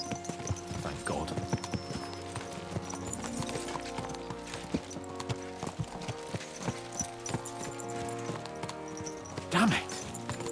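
Horse hooves clip-clop in Kingdom Come: Deliverance II, a steady walking rhythm of hoof strikes heard clearly, with speech and music-like tones running underneath.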